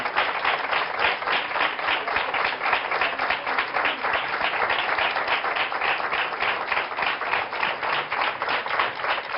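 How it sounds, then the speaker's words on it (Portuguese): A studio audience applauds on a Portuguese talk show, a dense, even wash of many hands clapping that holds steady for several seconds with no voices over it. "Uma salva de palmas para eles."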